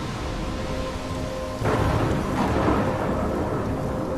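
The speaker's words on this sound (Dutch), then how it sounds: "I'm trapped in a storm." A thunderstorm with rain in the video game Life is Strange: a steady wash of rainfall with a louder rumbling surge partway through as thunder rolls in, continuing to the end with no talk.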